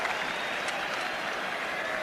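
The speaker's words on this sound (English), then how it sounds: "Good applause, of course, for the home team." A football stadium crowd at Arsenal versus Tottenham Hotspur applauds the home team in heavy rain, producing a broad, continuous roar of clapping and crowd noise that stays level throughout.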